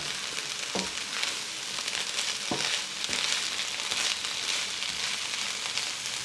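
Fried cabbage and potatoes sizzle steadily in a pan, a constant hiss broken by a few soft scraping knocks as the mixture is stirred.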